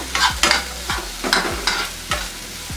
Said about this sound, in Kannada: 2 ಹಸಿಮೆಣಸಿಕಾಯಿ ಇಷ್ಟು ಹಾಕ್ಕೊಂಡು ಸ್ವಲ್ಪ ಫ್ರೈ ಮಾಡ್ಕೊಳ್ಳೋಣ.